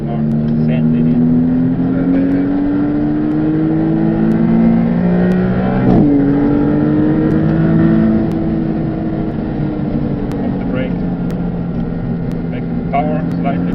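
A 630-horsepower rear-wheel-drive Maserati MC20 on Bridgestone Potenza race tyres circles a race track, its engine droning loudly and close with a steady rising pitch, a brief shift midway, then settling into a sustained roar.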